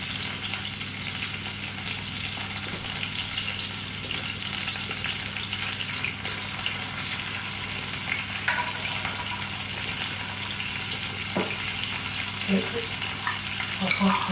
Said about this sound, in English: Just going to cook one side of these, and then when I turn them over I'll pop the onions in.